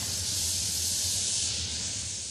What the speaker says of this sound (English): Parks crews use the Aquaside weed steamer, spraying hot water around palm trees at Chase Palm Park to kill weeds